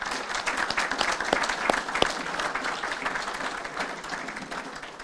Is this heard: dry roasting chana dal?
no